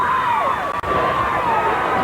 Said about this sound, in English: You can see a very, very happy crowd here at the Montgomery Civic Center.